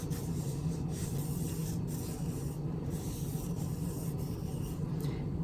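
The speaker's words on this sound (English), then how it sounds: "take a clean area of the rag and just wipe off any excess" A clean rag wipes excess wax off a thrifted vintage item, producing a soft, steady rubbing swish that runs without pause, close and fairly quiet, with no talking.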